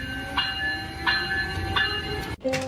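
Amtrak train in the US, passing close with a steady rumble and a regular clack repeating about every two-thirds of a second, then a brief drop and a sharp metallic onset at the end.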